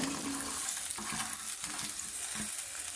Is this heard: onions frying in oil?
yes